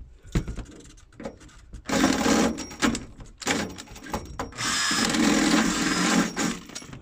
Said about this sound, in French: Ah, faut que je serre le mandrin.